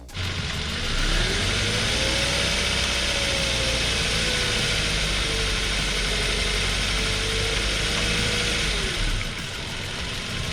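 A Chevrolet Beat/Spark fitted with a Chinese engine runs loud and close with a steady, rough drone, and its pitch swells and settles as if lightly revved, under broadband mechanical noise.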